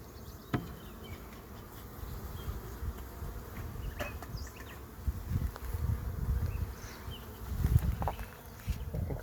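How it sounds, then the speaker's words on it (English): Honeybees buzz in the top box of a hive, a soft continuous hum with occasional louder passes of individual bees close by, plus faint knocks of handling. "Hopefully these bees in the top box are gentle, because we have never gone into them when they were a colony, just as a swarm."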